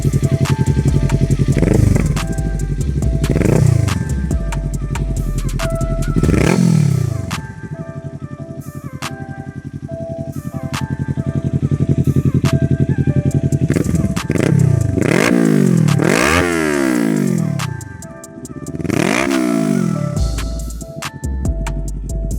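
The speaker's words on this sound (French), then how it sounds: "un pot de la marque Leo Vinci qui se fait très bien entendre, surtout avec le silencieux enlevé" A 2022 Kawasaki Ninja 400 KRT Edition with a Leo Vince exhaust and its silencer removed revs hard several times, raw and unmuffled, each throttle blip rising and falling over a rough, crackling idle.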